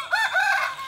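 Rooster crowing on a home garden plot behind a house in Indonesia, a single drawn-out cock-a-doodle-doo call, close and clear, alone with no talk.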